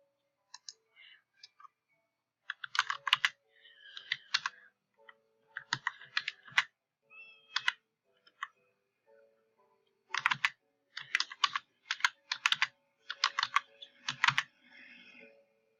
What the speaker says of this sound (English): So I am gonna type, and you can type too